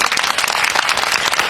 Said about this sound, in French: cela s'applaudit s'il vous plaît